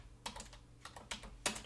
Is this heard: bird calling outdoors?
no